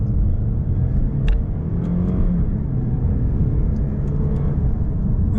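A Lexus IS 300 F-Sport sedan cruises in manual sport mode with paddle shifting, a steady low engine drone and road rumble filling the cabin, with faint ticks and clicks above it and no talk.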